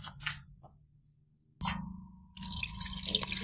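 Tap water drips and splashes, then runs in a steady close stream while fresh fish are rinsed, with a couple of sharp knocks in between.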